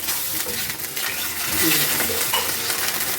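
Aloe vera pieces fry in oil, a steady close sizzle with soft scraping as they are turned over, no voice present.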